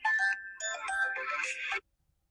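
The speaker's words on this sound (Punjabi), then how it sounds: "ਫੋਨ ਆ ਗਿਆ" Electronic phone ringtone playing a bright melodic tune for about two seconds, loud and close, then stopping abruptly into silence.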